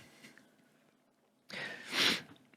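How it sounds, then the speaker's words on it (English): A person with a cold gives a short, wet sniffle up close, a brief breathy rush after a quiet pause, with no speech around it. "If I keep sniffling, I apologize."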